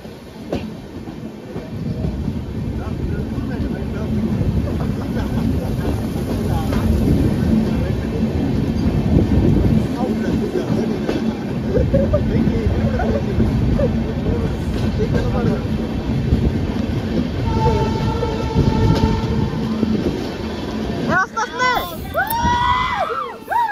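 Train journey through the hills of Goa toward Dudhsagar waterfalls, with a steady rumble of rail cars and the clatter of wheels on track filling the whole ride, overlaid by a murmur of passengers and brief shouting near the end.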